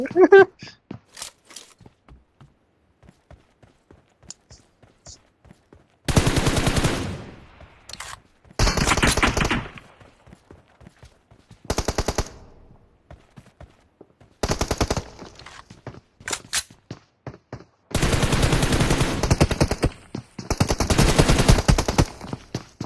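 Bursts of automatic gunfire in a mobile shooting game, several loud rapid volleys separated by pauses, with people talking in between and over the shots.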